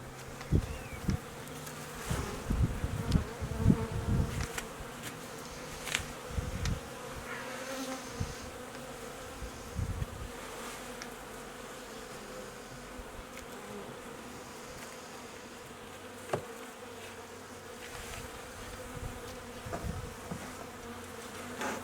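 Honey bees hum and buzz continuously around a hive during a spring hive inspection, a steady droning swarm with a few louder bumps and handling noises early on.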